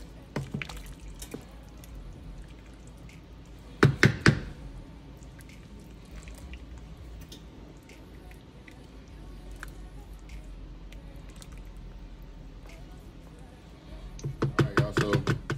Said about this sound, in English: just gonna give these a stir in there